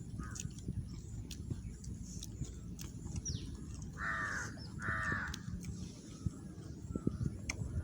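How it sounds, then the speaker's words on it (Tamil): Crows caw near a lake outdoors, with two distinct harsh calls in quick succession mid-clip and a few fainter ones around them, over a constant low ambient rumble. "கக்கா சவுண்டு"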